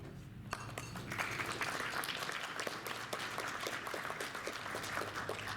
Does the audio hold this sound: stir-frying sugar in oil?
no